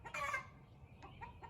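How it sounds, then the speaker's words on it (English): Backyard chickens clucking briefly, a short burst followed by a few faint clucks at close range in a quiet setting. "The chickens are so excited."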